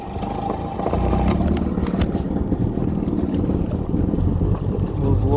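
A 1995 Sea-Doo XP 717 jet ski idles at about 1500 rpm during engine break-in, a steady low rumbling drone close by with wind buffeting the microphone throughout.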